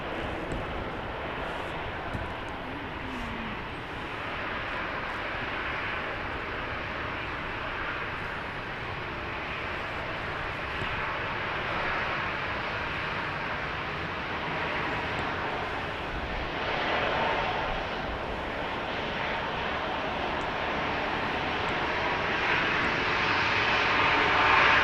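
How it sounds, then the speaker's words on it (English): A Southwest Boeing 737-700 arriving from Houston Hobby and landing at Dallas Love Field, its steady engine roar sustained for the whole stretch and swelling slightly louder near the end, with no voices. "That's Flight 52 coming in from Houston Hobby. 737-700."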